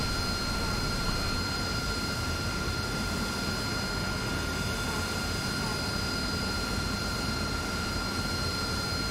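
An aircraft engine running in a flight simulator video game gives a steady, loud, continuous drone with a thin constant whine on top, unchanging for the whole stretch.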